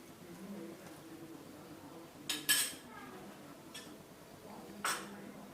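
A spoon stirring ash gourd and prawn curry in a metal pot, with a few quiet clinks and scrapes against the pot over soft background noise.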